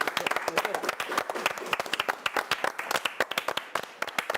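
Applause in tribute to cartoonist Antonio Helguera: sharp, irregular claps from a small group, fairly close and steady throughout, with no talking over them.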